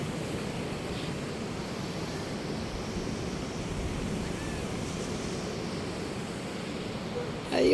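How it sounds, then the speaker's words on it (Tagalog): Big waves crash steadily against rocky shoreline boulders at Dilasag, Aurora, a continuous loud surf roar with wind buffeting, and a sharp rise in level right at the end. "The big waves in the rocks."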